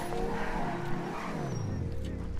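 A Banshee sports car in GTA V launches hard, its engine droning and climbing in pitch, then dropping at a gear change before pulling on. Heard up close.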